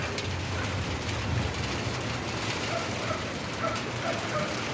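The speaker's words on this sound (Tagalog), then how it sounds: "Klarong klaro yung ulan oh." Steady rain falls outside a house, pattering on a metal roof sheet, a dense continuous hiss with scattered drips, fairly close and alone without talk.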